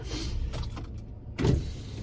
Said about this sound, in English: I'm gonna take down my windows